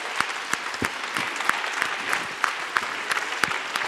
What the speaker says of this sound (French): je vous demande de vous lever et de les applaudir une dernière fois.